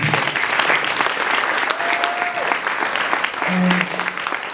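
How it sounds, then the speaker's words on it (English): Steady audience applause at a youth symphony concert, a dense wash of clapping from a seated crowd that holds throughout, with a brief voice and faint tones rising above it. "So one more round of applause for them"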